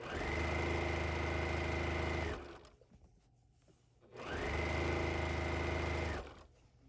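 A sewing machine runs a quarter-inch seam down a quilt sleeve in two steady, loud bursts of about two seconds each, separated by a short quiet pause.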